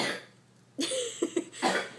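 A short burst of several close, harsh coughs in quick succession, loud against a quiet background.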